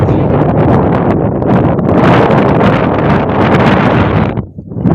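Strong wind gusting across an open farm field in the Dharwad area, a steady loud roar buffeting the microphone for nearly the whole stretch before briefly dropping away near the end.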